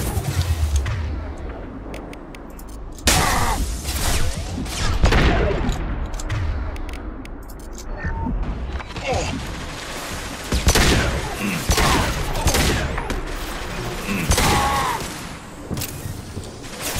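Suppressive gunfire in the PC shooter Mass Effect 2: loud, dense volleys of shots and heavy thuds come in repeated bursts with brief lulls, and game voices sound faintly in between.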